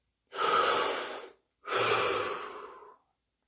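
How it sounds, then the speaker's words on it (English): Two deep breaths drawn in close succession, each a long, loud airy inhale lasting about a second, with a short pause between them and no talking. "Take a deep breath."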